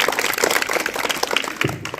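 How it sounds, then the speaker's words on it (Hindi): An audience applauds briefly, dense overlapping clapping for about two seconds that tapers slightly at the end. "तालियां के लिए।"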